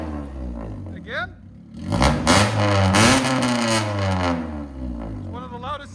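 A 1999 Honda Civic fitted with headers and a Netami resonator is revved hard in a few sharp, loud bursts that rise and fall, with a rough, raspy exhaust tone close by and people talking between the revs.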